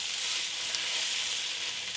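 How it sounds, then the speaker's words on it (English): Boiled yellow lentils go into a hot pan, giving a steady, bright sizzle that holds evenly for a couple of seconds with no voices. "Now it's time to add your boiled yellow lentils."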